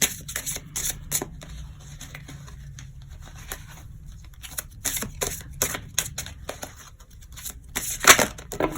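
A mandala energy oracle card deck is shuffled by hand in a steady run of soft riffling and patting, close and moderately loud, ending in a sharper burst of cards near the end, with no speech.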